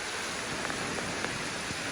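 Heavy rain falling on slippery rocks, a dense even hiss of countless drops that stays loud and steady throughout with no voices.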